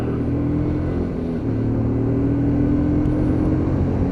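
A Lexmoto LXS motorcycle ridden along a road, its engine a steady close rumble with a slight rise in revs partway through, droning continuously with no talking.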